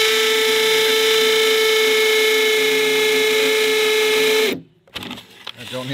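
A Milwaukee M18 hammer drill, model 2997-22, whines loudly and steadily for several seconds, then spins down and stops abruptly, leaving a few faint clatters.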